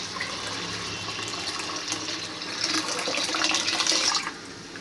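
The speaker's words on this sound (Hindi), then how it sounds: "और 3 गुना इसका पानी लेंगे हम बॉईल होने के लिए।" Water pours from a tap into a pot of barley being readied for boiling, with a steady hissing flow that swells toward the end and then cuts off.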